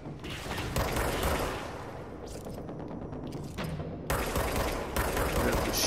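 Gunfire from the video game Control crackles in dense bursts with mechanical clatter, loud and continuous, pausing briefly between volleys.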